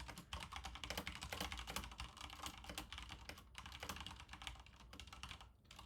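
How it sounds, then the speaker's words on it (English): Fast, continuous typing on a computer keyboard during an online typing race, with quick irregular clicks at low volume and no one speaking. "I'm gonna keep typing until I get to the end."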